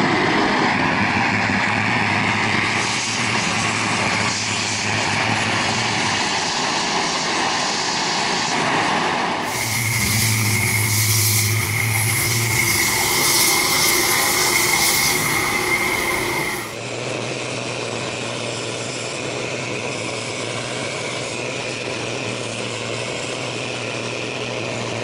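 An air blower feeds a forge while a muffler is annealed, making a steady broadband roar and hiss that swells louder with a brighter tone in the middle stretch before settling back to a lower, even rush.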